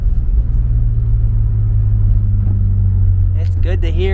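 Big-turbo BMW E36 drift car engine idling with a deep, loud, steady rumble close by; near the end a voice speaks over it.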